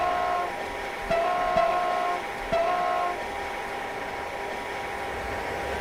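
An ICE 2 high-speed train in Train Simulator 2022 runs through the scene, giving a steady rolling rumble and a faint intermittent tone. A few sharp clicks land near the start, and no one speaks.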